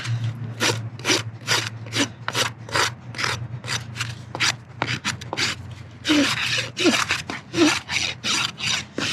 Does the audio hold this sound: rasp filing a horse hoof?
yes